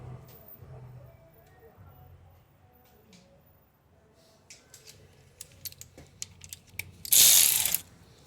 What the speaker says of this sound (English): I'm just gonna remove the 10mm nut.